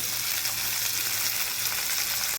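Bitter gourd fries in hot oil in a kadai, a dense continuous sizzle close up and fairly loud, cutting off abruptly at the very end.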